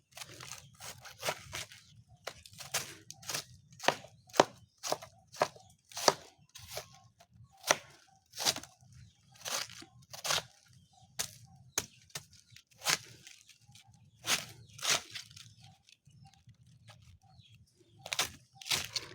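Herbs being chopped without a chopping board: sharp, irregular cutting snips and crunches repeat one after another, close and crisp, over a faint low background hum.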